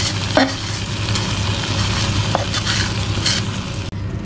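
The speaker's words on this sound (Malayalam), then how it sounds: "ഇനി ഇതിനെ നമുക്ക് ആ കറിയിലേക്ക് ഒഴിച്ചു കൊടുക്കാം." Hot fenugreek tempering poured into a bitter gourd fish curry, a close, loud sizzle and crackle with brief stirring scrapes, no voices.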